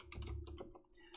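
Keys on a computer keyboard clack in a quick, close run of several strokes, brief and fairly quiet, with no talking.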